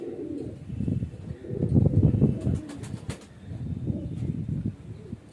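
Kasni (lilac) highflyer pigeons, young birds, coo softly in a steady murmur with a few faint chirps and a brief wing flutter.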